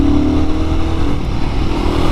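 A Royal Enfield Guerrilla 450 motorcycle rides at steady speed, its engine droning loud and continuous with a slightly vibey hum under heavy wind and road noise, no voices over it.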